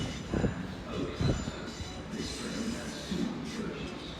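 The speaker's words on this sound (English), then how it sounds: "coming in now will be a Great Eastern Railway service to Oakhampton" A passenger train pulls in at Exeter St Davids station, a steady low rumble of wheels on rail with a few heavier thumps and faint squeals, fairly close, with no talk.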